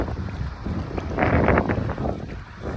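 Gusty wind on Maui buffets the microphone in a loud rumbling rush that swells in the middle, then eases slightly.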